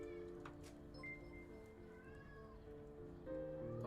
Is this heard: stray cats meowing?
yes